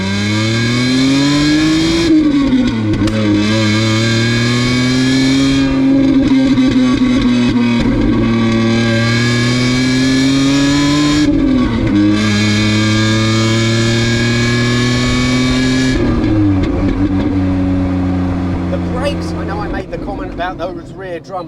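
A Lamborghini LM002 truck with a V12 supercar engine accelerating hard through the gears, loud close rising engine notes broken by brief shift pauses, easing off toward the end.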